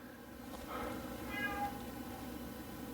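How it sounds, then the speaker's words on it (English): A cat meows once or twice indoors, a faint mid-length cry, with a person speaking quietly around it. "Be quiet, kitty, you're too noisy."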